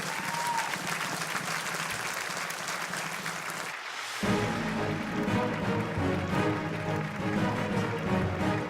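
Auditorium audience at an engineering quiz grand finale in Chennai applauds the winning team with sustained, dense clapping, then a sudden cut into a quieter stretch with music and a lighter spread of clapping.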